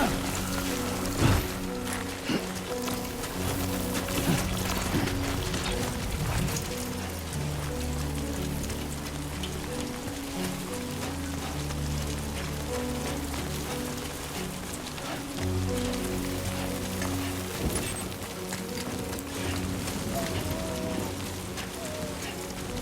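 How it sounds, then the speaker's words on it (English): Rain falls in the video game Death Stranding 2 as a steady, even hiss that runs through the whole stretch, layered with low sustained tones of the game's ambient score. "Great. Rain. Gotta move."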